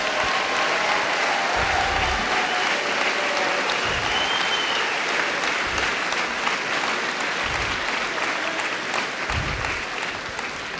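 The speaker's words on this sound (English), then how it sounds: "help me celebrate their great achievements with a round of applause" Graduation ceremony audience applauds the summa cum laude graduates as they rise, a loud, steady wash of clapping from a large crowd that holds for about ten seconds with only slight fading near the end.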